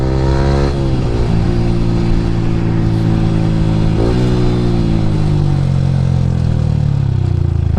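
A Yamaha R15 V3 motorcycle fitted with an Akrapovic R9 exhaust rides at speed, its loud engine droning continuously and close with a couple of throttle shifts and a gradual fall in pitch toward the end.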